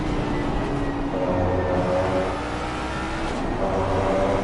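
A Ford Mustang race car at race pace around Kyalami in a racing game, a continuous engine drone that rises and falls steadily through the lap, moderately loud with faint tonal whine.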